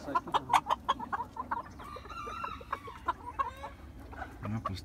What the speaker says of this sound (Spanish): también 4 gallinas y el gallo